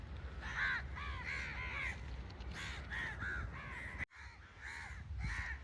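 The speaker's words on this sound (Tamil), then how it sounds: "எவ்வளோ காக்கா" Many crows caw over one another in a steady, overlapping chorus by a waterside lookout on the Kerala coast, with no talking and a brief drop in sound near the end.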